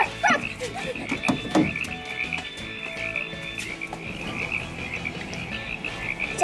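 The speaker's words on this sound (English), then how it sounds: "Oh, there! Frog!" Frogs croak in a continuous, rhythmic chorus close by, with a few sharper barks and calls cutting in near the start.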